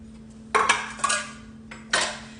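A utensil scrapes and clinks against a bowl while tuna casserole mixture is stirred, in a few distinct bursts over a faint steady hum.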